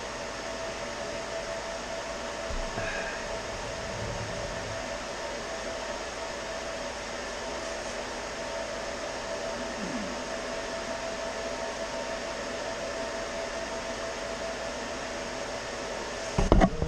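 A cryptocurrency mining computer with its cooling fans running emits a steady, even whirring hum that stays constant throughout, with a few faint clicks and knocks near the end.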